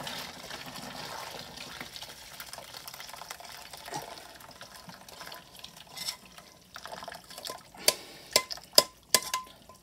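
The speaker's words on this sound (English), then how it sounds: "We're gonna carefully get the pot and we're gonna drain all the water out." Pasta water poured from a pot into a drainer in a kitchen sink, a soft steady splashing rush that ends in a few sharp clanks and knocks of the pot and drainer.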